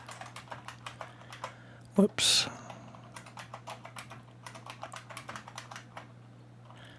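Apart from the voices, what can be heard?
typing on a computer keyboard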